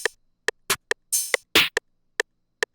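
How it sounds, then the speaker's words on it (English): Trap drum samples for a beat: a few crisp snare hits and longer open hi-hat washes interspersed among short closed ticks, sparse and isolated with no talking. "Then we have a snare and an open hat, which are going to sound like this."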